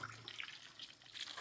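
Tap water running steadily into a sink in a home kitchen while crispy pata is being cooked, a continuous faint splashing hiss with no talk.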